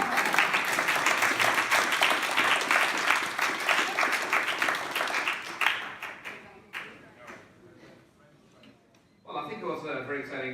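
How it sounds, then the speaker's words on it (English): Audience applause at a university guest artist's final presentation, with dense steady clapping that thins out and dies away near the end before a voice starts speaking. "Shall we clap first, maybe?"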